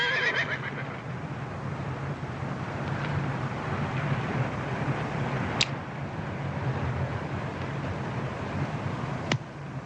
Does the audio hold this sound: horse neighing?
yes